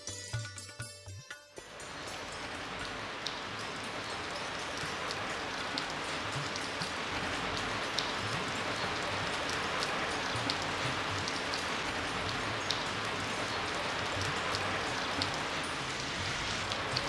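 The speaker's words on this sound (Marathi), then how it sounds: "घराच्या छपरावर पडणारं पावसाचं पाणी" Heavy rain pours steadily onto a house roof, a dense continuous patter close by, with a short quieter stretch at the start before the full downpour.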